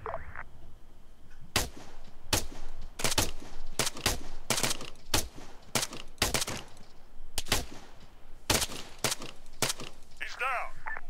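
Rapid gunfire in the military shooter game ARMA 3: dense bursts of rifle and machine-gun shots crack in quick clusters, loud and close, with short gaps and occasional voices underneath.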